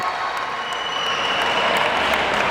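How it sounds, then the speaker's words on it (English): Dense, steady crowd clapping at a men's African Cup dodgeball match in the arena, loud and continuous throughout with no talk over it. "Crowd are clapping for Bessamel right there."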